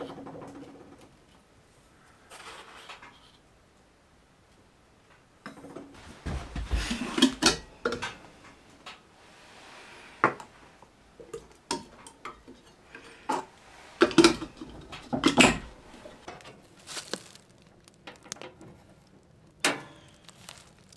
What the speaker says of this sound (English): brew up a pot of coffee here